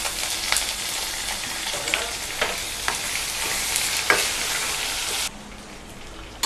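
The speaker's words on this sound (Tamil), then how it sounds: "இப்போ வந்து வெங்காயம், வரமிளகாய், கருவேப்பிலை எல்லாத்தையுமே நம்ம போட்டு நல்லா தாளிச்சுக்கலாம்." Onion, dried red chilli and curry leaves sizzle and crackle in hot oil as they temper, loud and close, with stirring scrapes and a calmer fry near the end.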